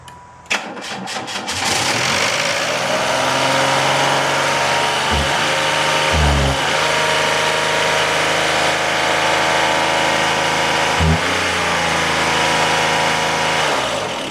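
A 1995 Oldsmobile Cutlass Supreme convertible engine cranks and catches, then settles into a loud, steady run with a few brief revs.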